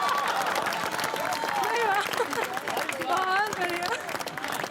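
A crowd at an Independence Day poetry recital claps and cheers in steady, dense applause with voices calling out over it.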